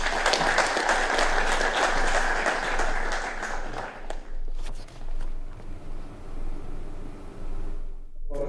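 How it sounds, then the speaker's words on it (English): Applause from an audience at a caucus meeting forum in Nairobi, a dense burst of clapping for about four seconds that then thins out into sparse claps and room noise. "Applause, please."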